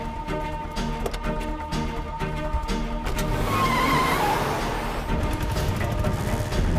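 Auto rickshaw engine droning and revving as it drives along, with rattling and a rising whine midway, steady and close.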